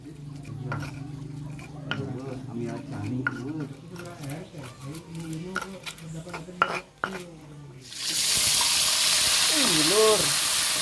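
Sambal goreng being cooked in a pan, with clinks of utensils against the pan and stirring under a voice, then a loud, steady sizzle of frying rising up for the last few seconds.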